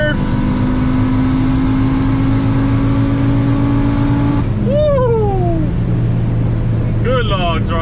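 Audi UrS6 pulling hard at wide open throttle in third gear, a loud steady engine drone with rising tones that sweep up and shift midway, close and continuous inside the car.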